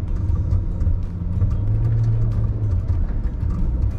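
A car on summer tyres drives through mud, its engine producing a constant low rumble up close for a few seconds, with no talking.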